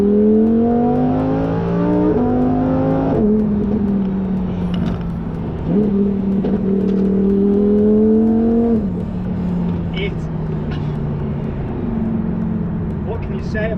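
Lamborghini Huracan EVO engine revving hard and close, pitch climbing and dropping through quick gear changes after a manual downshift, with sharp blips between shifts and faint crackles toward the end.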